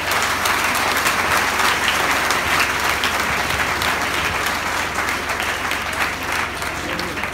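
Conference audience applauding steadily, a dense sustained wash of many hands clapping throughout at even loudness, filling a hall at a debate on education and economic development in the DRC.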